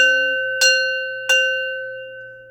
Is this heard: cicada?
no